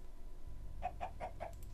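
Chicken in Minecraft clucking a quick run of four to five short, evenly spaced clucks after a brief quiet start, close and clear over a low background rumble.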